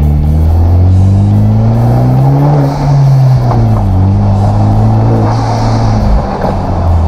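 A Hyundai Genesis 2.0T with a cold air intake revs close up, its loud engine note rising and falling through two smooth pulls with an intake whoosh, and no voices.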